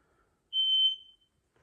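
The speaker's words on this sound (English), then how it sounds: "that fucking alarm is ridiculous" An electronic alarm sounds one clear, high, steady beep lasting about half a second, then cuts off into silence.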